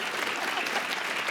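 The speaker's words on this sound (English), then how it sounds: "Please give her a round of applause." A studio audience at a TV show's season finale applauds Kayla Ottaway, a thick, continuous roar of clapping hands, loud and steady throughout.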